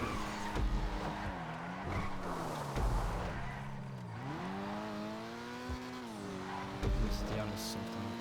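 Dinka Jester RR sports car in the video game GTA driving with a revving engine that shifts pitch, tires skidding and squealing through turns, loud and continuous, with someone talking over it.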